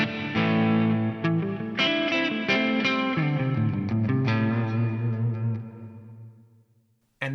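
An electric guitar plays a few chords that ring out with reverb and fade to near silence, then a sudden new note cuts in at the end as the reverb is toggled.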